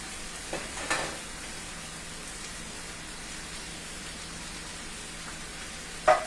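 Corn tipped into a hot skillet with half a can of baked beans, sizzling steadily throughout, with a couple of soft spoon clinks near the start and a sharper scrape or knock at the very end; no talking.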